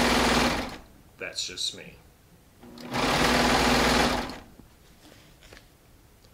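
A Baby Lock Triumph serger running a 4-thread overlock seam on Shannon Cuddle fabric, in two loud sustained bursts with a brief pause between, while a voice speaks in the gap.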